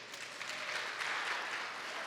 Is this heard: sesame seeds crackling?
no